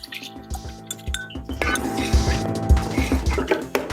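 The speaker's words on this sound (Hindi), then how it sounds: "अब जाएगी इसमें इसकी यखनी।" Beef stock (yakhni) with its own ghee, about half a litre, poured into a pot of beef nali biryani, giving a wet liquid pour with clinks against the pot under steady background music.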